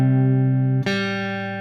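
Sustained guitar notes from the opening of the Star Wars theme ring out with bright harmonics, one note fading into a fresh plucked note near the middle, played alone.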